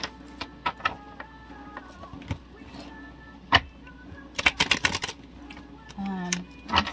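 Tarot cards shuffled by hand in quick clusters of crisp riffling taps and flutters, close up, alongside scattered ticks and a brief low voice.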